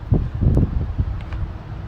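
Steady low rumbling wind buffets the microphone in gusts, with soft rustling on top; no voices.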